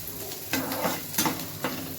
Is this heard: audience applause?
no